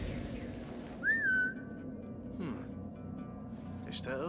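The player character in the video game Assassin's Creed Mirage gives a single short rising whistle that holds briefly, with a speaking voice before and after it and game ambience underneath.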